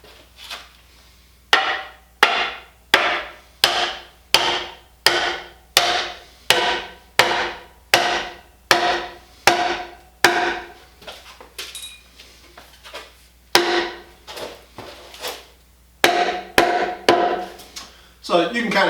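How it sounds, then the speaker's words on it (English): A big hammer pounds a handle into a pile driver pipe with a long run of loud, evenly spaced metallic blows, a short pause, then several more strikes in quicker succession. "let's pound it in with a big hammer"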